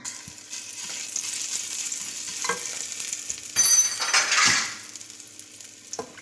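Hot oil sizzles steadily, swelling into a louder crackling hiss midway as crushed garlic hits the pan, with a few light clinks of a utensil.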